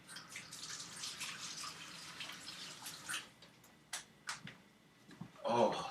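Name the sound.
washing hands under running tap water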